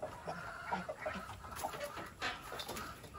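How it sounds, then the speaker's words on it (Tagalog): Farmyard chickens cluck in short, scattered bursts at close range, with no talking over them. "Ito yung manok."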